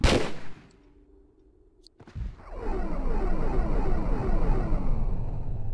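Gunfire rings out in a Tomb Raider 3 boss fight: a sharp burst of shots, a short quiet lull, then a dense, continuous volley of rapid weapon fire that persists to the end.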